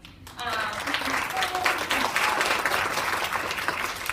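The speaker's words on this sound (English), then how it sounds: "we'll give you a round of applause after" An audience at a Phi Alpha induction ceremony at WCUPA claps for the new executive board, sustained even applause rising quickly after a brief pause and holding steady throughout.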